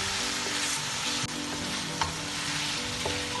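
Mutton sizzling steadily as it fries bhuna-style in a pan, a constant close crackle with a few brief stirring clinks and knocks, no talking.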